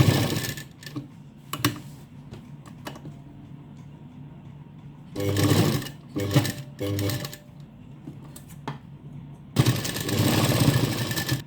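A sewing machine runs a double line of stitching to attach lace along a designer sleeve, whirring in several short bursts of a few seconds each, separated by quieter pauses with light handling sounds.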